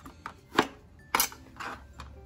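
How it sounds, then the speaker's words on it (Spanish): A knife cuts through lemons on a board in separate crisp chops, five or six in irregular rhythm, close and moderately loud with no talking. "Así lo vamos a ir cortando uno por uno hasta que terminarlos de cortar todos para molerlos"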